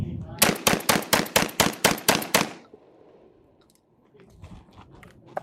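A Remington Versa Max shotgun fires about nine rapid, evenly spaced blasts at an outdoor multi-gun range, loud and close, then the shooting stops and leaves faint background noise and a few small clicks.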